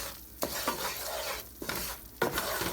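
Flour roux cooking in a pan, a quiet close sizzle broken by rhythmic stirring strokes, a spoon sweeping and scraping the pan bottom several times, no voices.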